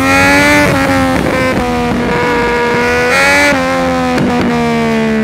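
A 140 hp motorcycle engine beside cliffs surges and eases in repeated loud revs, its tone dipping and rising over several seconds without any talk.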